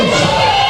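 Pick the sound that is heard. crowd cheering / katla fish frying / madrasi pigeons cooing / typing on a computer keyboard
crowd cheering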